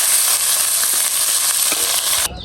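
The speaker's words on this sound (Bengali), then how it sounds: "এটা মূলার শাক ভাজি করতেছি" Radish greens sizzle loudly in hot oil in a pan, a dense steady hiss with scraping stirs throughout, cutting off near the end, with no talk.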